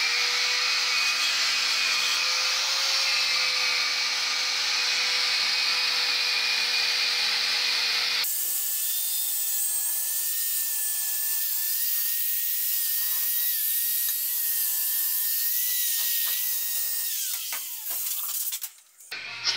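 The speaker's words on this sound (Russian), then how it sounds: "Для окончательной обработки наружной стороны применяем щеточку, колечко. Вот мы ее обрабатываем." A ring-shaped wire brush on a power tool grinds steadily across the outside of a Peugeot engine oil pan after its cracks were TIG-welded. The sound is a continuous close whir that shifts pitch about halfway through and ends with a few rough scrapes.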